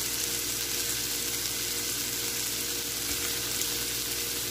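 Shrimp sizzle and fry in a hot pan of ginataang monggo, a dense, steady crackling hiss that stays loud and even throughout with no talking.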